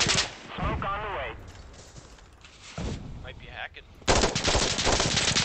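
Gunfire and explosive artillery blasts from a smoke artillery barrage in the video game Insurgency Sandstorm, with loud crackling shots and a heavy burst of bombardment near the end, while players talk over it.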